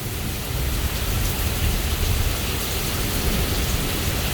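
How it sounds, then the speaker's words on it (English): Heavy rain pours down in a severe thunderstorm, a loud, dense, continuous roar of rain on surfaces with a low rumbling underneath. "that rain is coming down"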